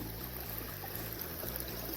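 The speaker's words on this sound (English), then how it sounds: "This is Trough Creek." Trough Creek runs as steady, close flowing water, a continuous broadband rush with faint low-frequency pulsing from the current, alone with no voices.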